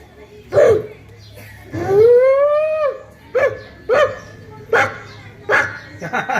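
Primary-school children (first and second grade) vocally imitate two dogs fighting, producing a sequence of yelps, a drawn-out howl and sharp barks in bursts, close and loud in a classroom.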